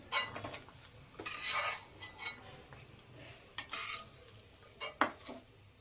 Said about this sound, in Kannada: ನಾನಿಲ್ಲಿ ತೆಗೆದುಬಿಟ್ಟು ಒಂದು ಬೌಲಲ್ಲಿ ಸೇರಿಸ್ತಾ ಇದ್ದೀನಿ